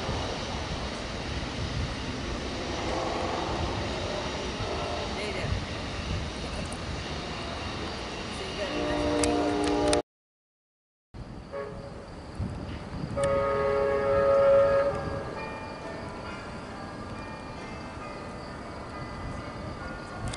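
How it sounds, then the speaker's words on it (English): The Amtrak Coast Starlight 14 passenger train rumbles steadily past on the Peninsula Sub, its horn blaring briefly partway through, with a short silent break in the middle. "Here goes Coast Starlight 14 to Seattle."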